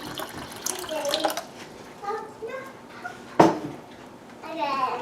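A quart of water pours into a Vitamix blender jar for making almond milk, a gurgling splashing stream heard under nearby speech.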